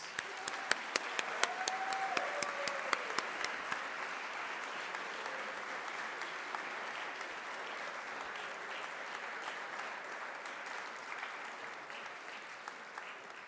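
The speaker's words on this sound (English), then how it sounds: "Please join me in a final round of applause to honor this year's Hall of Fame inductees and award recipients." Guests at a university athletics Hall of Fame induction ceremony give a final round of applause for the inductees and award recipients, a few sharp nearby claps over a broad, steady wash of clapping that continues for over thirteen seconds.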